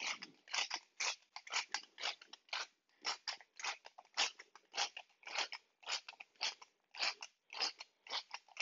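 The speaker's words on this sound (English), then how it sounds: "I'm giving I'm giving this a, uh, some black pepper" A pepper mill grinds black pepper over petrale sole in a quick run of crunchy, rhythmic twists, close and quiet, with no talk.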